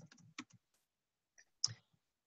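Typing on a computer keyboard during a remote meeting: a few quiet, close clicks come in short bursts separated by brief pauses.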